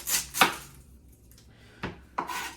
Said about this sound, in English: So to cut your onion, you want to get the biggest knife that you can find